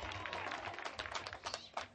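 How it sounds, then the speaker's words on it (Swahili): An audience claps at a community outreach prize-giving, a short stretch of faint, scattered applause at a distance. "Makofi."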